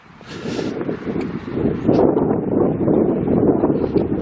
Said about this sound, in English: Nice clear morning, it's a little breezy.